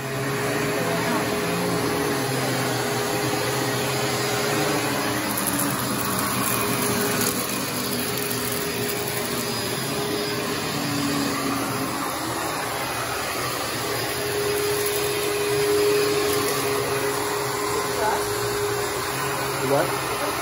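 A Panasonic vacuum cleaner runs on carpet, a steady, close, whooshing motor drone held throughout with slight shifts as it moves, while people talk faintly underneath.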